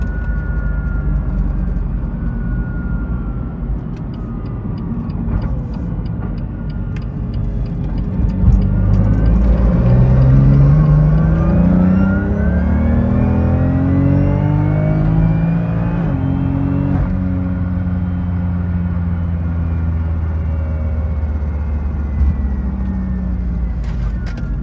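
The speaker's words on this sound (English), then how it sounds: "You can hear the gear clattering" Loud BMW DCT race car engine revving and droning from inside the cabin, with rattling, clattering transmission gear noise underneath as the pitch climbs and falls.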